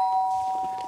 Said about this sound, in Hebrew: ואז, צלצול בדלת.